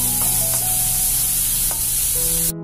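Sliced onions and green chillies sauté in a pan, giving a steady close hiss of frying that runs throughout before cutting off at the end.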